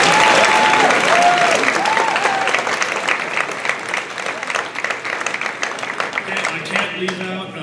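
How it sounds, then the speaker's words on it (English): Audience applause fills a school choir concert hall, loud and sustained for several seconds, thinning slightly toward the end as a faint voice begins underneath. "a big round of applause for our boosters"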